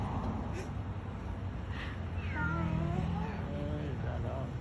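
A cat stuck high atop an electricity pole gives several drawn-out meows, fairly distant, heard over a steady background hum while people talk nearby.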